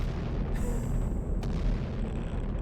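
A firework shell bursts in Fireworks Mania: a sharp crack and hiss rise over a steady, noisy rumble, followed by a softer crackling tail as it fades.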